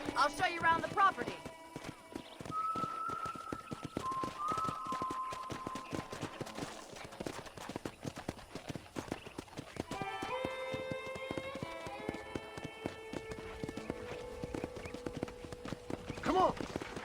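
Horse hooves clip-clop in the video game Red Dead Redemption on Nintendo Switch, a steady rhythmic trot under scattered game sounds, with tonal music or voices drifting in and out.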